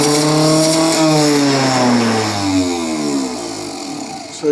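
A Mercedes 560SL starter motor spins up loud and alone on a bench test, a strong whining drone sliding gradually down in pitch as it winds down over several seconds, ending with a short click.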